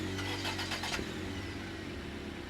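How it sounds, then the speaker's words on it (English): Racing car engines start up at a starting line, cranking briefly before settling into a steady, close mechanical idle. "Please get your cars in the starting line and start your engines."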